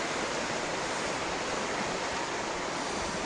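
Small river cascades rush in a steady, dense roar of water heard close and alone, with no voices and no pauses.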